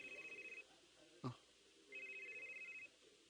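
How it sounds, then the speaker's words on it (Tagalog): A cellphone rings indoors with a steady, pulsing electronic trill in two bursts separated by a sharp knock, moderately loud, with no talk over it. "Oh, nitingog imong cellphone"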